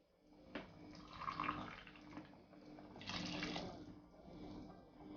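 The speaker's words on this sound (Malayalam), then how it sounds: "ഈ ഗ്ലാസ്സിൽ 8 ഗ്ലാസ് വെള്ളം ഞാൻ ആഡ് ചെയ്ത് കൊടുക്കുന്നുണ്ട്" Water poured into a cooking pot of rice for an Afghan beef pulao, a soft gushing splash that swells in two short bursts, faint and close, with no talking.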